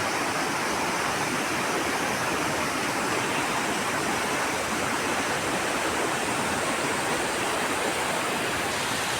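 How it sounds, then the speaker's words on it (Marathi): Water rushes and roars continuously at close range, a dense, unbroken torrent with no other sounds. "एवढं पाणी वाहतंय बघा"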